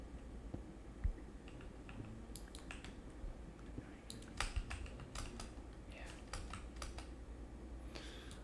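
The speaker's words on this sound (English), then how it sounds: "I would do apologize for the sound of my keyboard." A computer keyboard clatters with irregular bursts of keystrokes and occasional louder clicks, close and fairly quiet, during a Minecraft Beta 1.7.3 session, with no speech.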